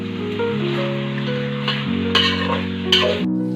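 Mutton being stirred as it fries in a pot, a steady sizzle under a low hum, with a couple of brief scraping clatters from the spoon against the metal.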